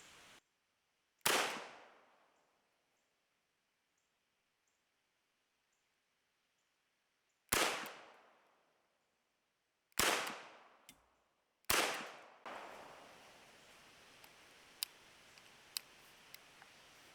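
Sharp, loud reports from a Taurus Judge revolver firing light 8-shot rounds at 1,200 feet per second, four separate shots each trailing off into a decaying echo, widely spaced, then fainter clicks and handling noise.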